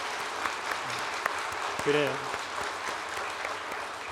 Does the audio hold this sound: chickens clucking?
no